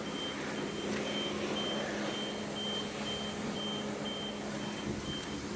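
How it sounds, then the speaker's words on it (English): A car alarm on a nearby Audi beeps in a regular, repeating pattern of short high tones, steady and moderately distant over a constant background rush, with no speech. "next door's got a alarm going off on that Audi over there"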